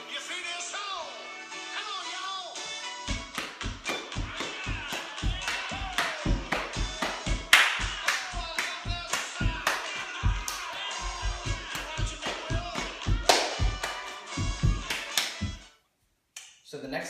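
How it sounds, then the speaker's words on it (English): A group performs a stomp-and-clap dance routine, with sharp claps and foot stomps in a repeating rhythmic pattern while an instructor talks over it, then the sound stops abruptly near the end. "So you just did stomp, clap, clap, stomp, clap, clap, step."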